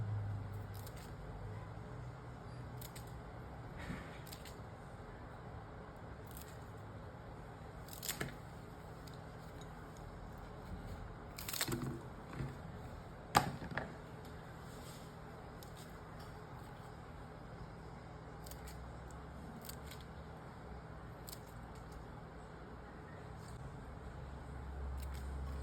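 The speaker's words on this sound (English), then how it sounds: "I'm just going to cut the leaves off." Celery stalks having their leaves cut off with scissors or a knife, a few scattered crisp snips at irregular intervals over quiet kitchen background, fairly faint and alone.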